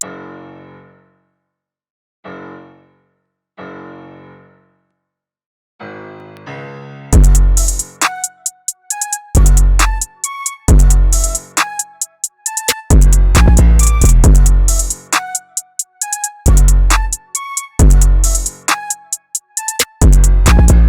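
Sparse piano chords open alone, then punchy kick and snare drums enter with the keys, forming a loud, steady hip-hop groove, an FL Studio beat.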